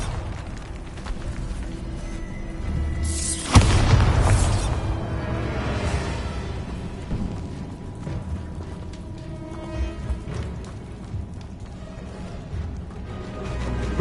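A video game spell explosion from the Bombarda charm bursts loudly with a whooshing boom, then fades into a rumbling tail over ambient game noise.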